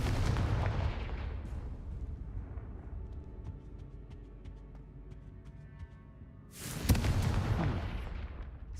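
Blasting spell explosions in the video game Hogwarts Legacy: a loud broadband boom opens, a rumbling tail fades, then a second heavy blast erupts near the end.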